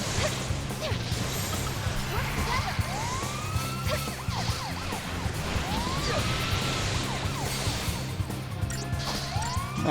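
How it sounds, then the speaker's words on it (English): A siren on a character's head in the PC game Final Fantasy XIII-2 wails in repeated rising and falling sweeps over a busy bed of game sound, clanks and background music. "I always got a kick from playing this game out of the siren on that blonde's head."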